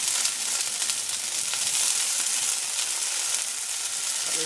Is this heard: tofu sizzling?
yes